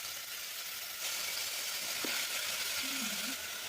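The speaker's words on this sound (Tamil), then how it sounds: "சொரக்காய் போட்டு மஞ்சத்தூள் உப்பு போட்டு ஒரு வதக்கிடுங்க." Bottle gourd sautés in a pan with turmeric and salt, giving a steady, close frying sizzle and hiss that runs the whole time with no break.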